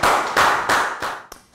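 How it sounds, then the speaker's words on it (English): Loud applause from a primary school class, a dense burst of clapping that swells in waves and then thins out toward the end. "A big round of applause for everyone"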